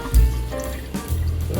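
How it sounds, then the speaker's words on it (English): Rinse water from washing curry chicken is tossed out of a container, a short splashing pour with a low thump at the start, then trickling and dribbling close by with no talking. "So I'm going to now throw the water off, right?"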